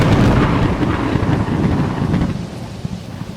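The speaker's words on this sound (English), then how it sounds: "The lightning had struck Ed hard." A lightning strike with thunder sounds as a loud, sustained rumbling crash that slowly fades over a few seconds, with no voices.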